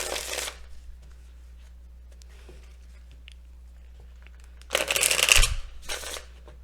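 Tarot cards shuffled by hand in two short riffling bursts, one brief and one longer, close and crisp against quiet room tone.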